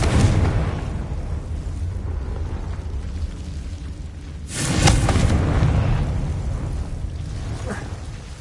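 The Confringo fire spell in Hogwarts Legacy, played on PS5, bursts midway with a sudden booming blast. The blast rises out of a steady rumbling game background and fades over a couple of seconds.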